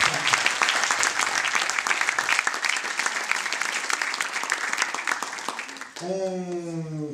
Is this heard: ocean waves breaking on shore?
no